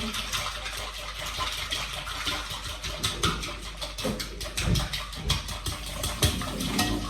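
Eggs and milk being whisked in a bowl for pizza, a fast run of rhythmic clinking strokes against the bowl, getting busier and louder toward the end.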